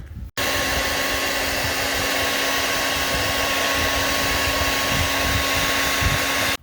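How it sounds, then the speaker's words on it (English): Hair dryer heating a plastic rear bumper protector on a 2019-2021 Toyota RAV4, a loud, steady blowing whir with a constant motor hum that switches on sharply and runs unbroken before cutting off at the end. "grab your air dryer and heat it up"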